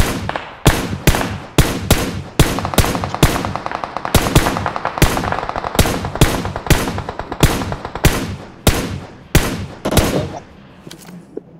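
Video game gunfire crackles in rapid, sharp bursts, loud and close, with rattling automatic volleys and scattered single shots continuing almost without pause.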